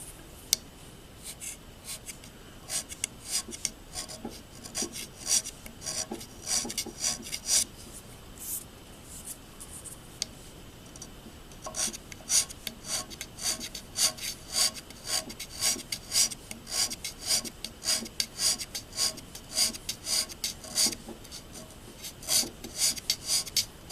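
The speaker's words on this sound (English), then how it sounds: "what I'm trying to do is keep the scraper really flat here and keep a lot of the scraper" A hand scraper works the metal surface of a Bridgeport milling machine with repeated short, rasping strokes. The strokes come in quick rhythmic bursts, pause briefly, and then resume faster and denser. They sound close and fairly quiet, and no one speaks.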